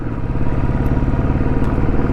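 A Royal Enfield Bullet motorcycle labours up a Himalayan mountain pass road, its single-cylinder engine thumping in a fast, even beat, loud and close throughout with no voices.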